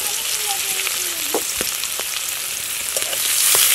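Onions frying in a pan for a village-style prawn dish, a steady bright sizzle with a few stirring clicks and scrapes, close and continuous, growing slightly louder toward the end.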